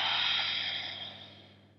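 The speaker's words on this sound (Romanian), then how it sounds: "Expiră." A person exhales slowly during a guided breathing meditation, a soft airy breath that starts fairly loud and fades gradually over under two seconds, with no talking.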